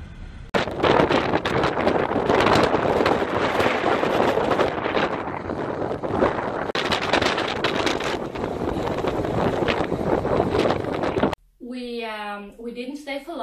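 Strong wind roars and buffets the microphone on a motorcycle trip, a loud, continuous rushing gust for most of the time before it cuts off, followed by a voice speaking briefly.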